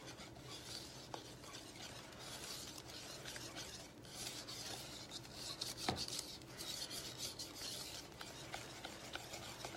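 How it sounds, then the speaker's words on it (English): Garlic cheddar biscuit dough is stirred in a bowl, a faint close rasping and scraping with irregular rubbing strokes and occasional light knocks, no voices. "Gonna give it a quick stir."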